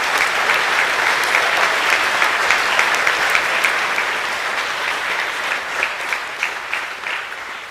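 Dense, sustained applause fills the hall at a school co-curricular awards assembly, a close, even wash of many hands clapping with a few sharper claps standing out as it slowly tapers.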